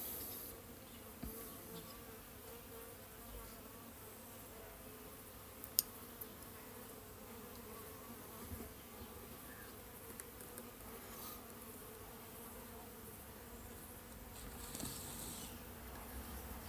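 Honeybees buzz around an open mini nuc hive outdoors, a soft, steady hum with faint ticks and bumps scattered through it.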